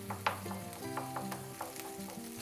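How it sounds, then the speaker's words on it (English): Kofta fry in a hot pan with close, crackling sizzle and sharp spitting pops over a low steady hiss, the bubbling rising and falling unevenly. "So we'll just fry it quickly here. We want to see it like sizzle and"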